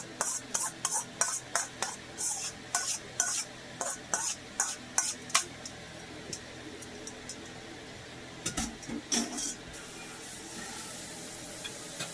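Drained, rinsed thin spaghetti spread around a baking dish with a utensil, producing a run of short wet scraping and slapping strokes in quick rhythm that stop before a quieter stretch.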